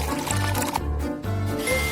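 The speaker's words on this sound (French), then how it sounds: "C'est toi qui les mets et moi, je verse de l'eau." Water poured onto a plate in a kitchen trick, short close pouring and splashing in uneven bursts.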